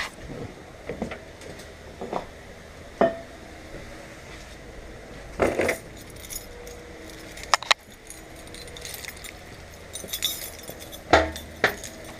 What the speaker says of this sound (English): My keys there.